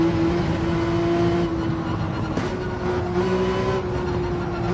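A Porsche 911 engine in Gran Turismo 7 drones loud and steady in close-up, holding a constant pitch that shifts slightly upward near the end, with no talking over it.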